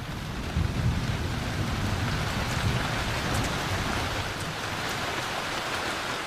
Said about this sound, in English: When rain comes to Sabah, it comes hard and without warning.